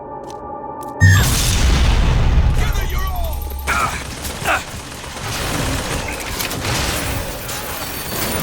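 Rockets explode in the first-person shooter BioShock Infinite, a heavy boom slamming in followed by rumbling blasts, crackling debris and scattered gunfire in a chaotic battle.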